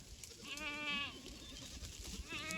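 Goats in a mixed farm herd moving with sheep give two bursts of wavering bleats, the first long and prominent and the second shorter near the end, over a steady outdoor background of hooves and shuffling.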